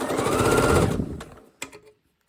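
A sewing machine stitching a fabric dart runs steadily for about a second, then stops. A couple of sharp clicks and handling knocks follow before near silence, close and moderately loud.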